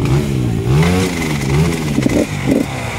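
A 2017 KTM 300 two-stroke dirt bike engine runs loud and close, revving up and down with a rattly, buzzy tone and a couple of sharp throttle blips near the end.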